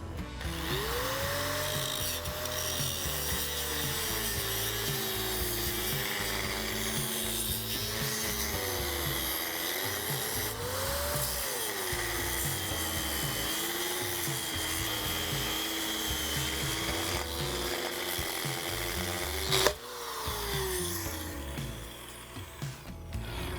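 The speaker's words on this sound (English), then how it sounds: "take the grinder and make a slice right down the center of this inner race" Grinder cutting down the center of a steel inner race on a large machine rotor bearing, a continuous loud abrasive whine with a wavering pitch that runs unbroken for about twenty seconds, then a sharp pop before the cutting tapers off.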